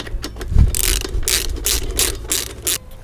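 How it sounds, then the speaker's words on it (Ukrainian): A ratchet with a 10 mm socket tightens a clamp on a new motorcycle, giving loud, close, rapid ratcheting clicks in several quick bursts. "Так само на 10 головка і затягуємо"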